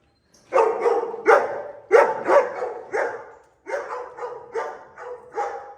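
A puppy-seller's dog barks repeatedly nearby, about eight loud, sharp barks in two quick bursts separated by a short pause.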